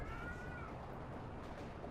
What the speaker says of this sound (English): That would be my cat in case you hear meows in the background.